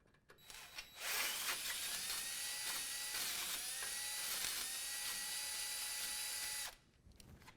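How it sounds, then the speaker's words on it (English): A drill boring out holes in steel lift kit brackets for nut certs on a 2017 Silverado 2500 HD, one loud sustained high-pitched whine held steady for several seconds, then cutting off abruptly. "We're going to be using some nut certs, so we'll need to drill out this hole here, and this hole here."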